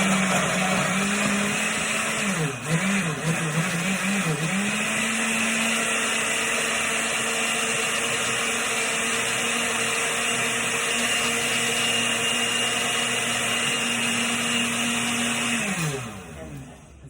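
A kitchen blender whirring through pineapple and cucumber with their skins for juice, a loud steady motor drone with a wavering pitch at the start that then holds constant before spinning down at the end.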